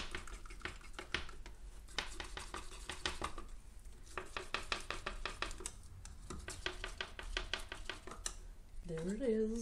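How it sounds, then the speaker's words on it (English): Acrylic paint being stirred with a silicone tool, giving a steady run of soft scraping and tapping clicks up close, ending in a short burst of speech. "I'm gonna stir it up a little bit."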